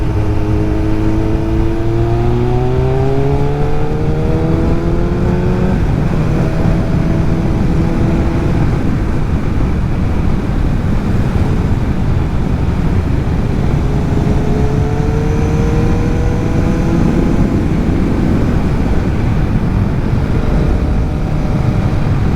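Kawasaki ZX7R sport motorcycle held in third gear while cruising along a road with traffic, its engine note rising and falling in smooth sweeping pitch glides over steady close-up wind rumble, loud and continuous with no talking.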